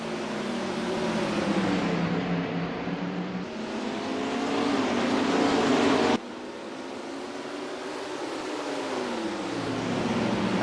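Stock cars in NASCAR Racing 2003 roar around Martinsville short track, several engines droning loudly with rising and falling pitch as cars pass close by, a brief cut midway, then another car sweeps past.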